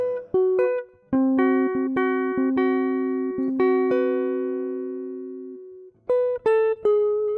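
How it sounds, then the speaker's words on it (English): A dominant 13th chord with a 9th, its notes entering one after another and ringing out together before fading, followed by a few quick separate notes at the end. "I think it is a dominant 13th chord with a 9th in there"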